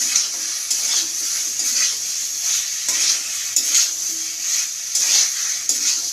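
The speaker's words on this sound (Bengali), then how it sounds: "এখন এই মশলা কষানোর মধ্যেই আমি সাজনে আর আলুগুলো দিয়ে দিব।" Drumsticks and potatoes fry in a spice paste while being stirred, a steady bright sizzle with repeated scraping and tapping of the spoon against the pan, close and continuous.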